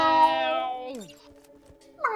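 Voices imitate sad, drawn-out cat yowls: a long wavering meow that bends downward and fades, then quiet, then the start of another yowl at the end.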